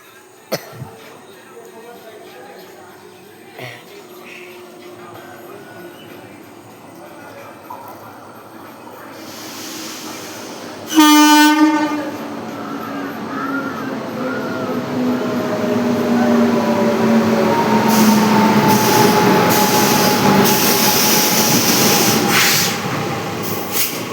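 Sealdah–Lalgola passenger train 53181 pulls into Jiaganj station: a sharp horn blast cuts in midway, then the rumble and squealing wheel noise of the carriages build and stay loud, with faint voices on the platform beforehand.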